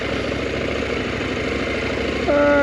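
KTM 790 Adventure motorcycle engine idling and ticking over at low revs through a slow, tight U-turn, a steady close rumble that rises slightly near the end.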